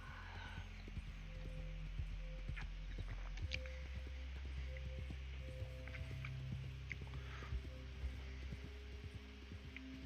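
Horse hooves clip-clop steadily in Red Dead Redemption 2, a close, continuous patter of hoofbeats with scattered mechanical clicks over a low rumbling backdrop.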